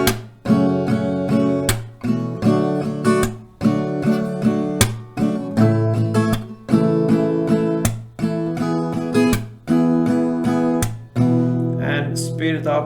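An acoustic guitar strums a chord progression slowly, each chord rung out for about a beat and a half in a steady, even rhythm, loud and close with no talking over it.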